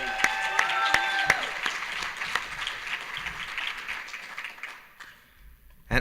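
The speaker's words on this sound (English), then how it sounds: "Big round of applause, please" An audience at a panel event breaks into steady applause, with a crowd of hands clapping continuously, while several sharp whistles ring out over it before the clapping thins out toward the end.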